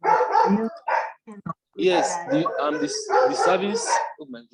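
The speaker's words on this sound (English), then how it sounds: "Sorry for the dog's noises." Dog barking in the background, rising under steady conversation between people, with several bursts overlapping the talk.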